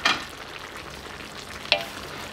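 Humba with quail eggs is stirred gently in a sizzling pan, with soft scraping, two sharp utensil clacks against the pan, and a steady low frying hiss.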